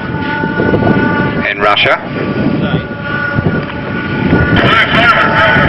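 A large-scale ducted fan model of a Tupolev Tu-22M Backfire swing-wing bomber flies past at an air show, a loud continuous roaring whine that swells near the end while a commentator talks over it.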